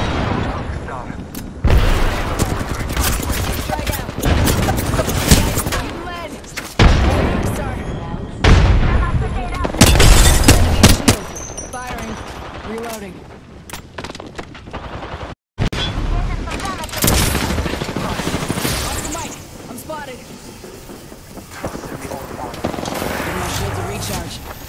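Heavy gunfire and explosions fill an Apex Legends match: dense automatic bursts, booms and blasts come almost without pause, loud and close, with game voice lines over them and one brief dropout partway through.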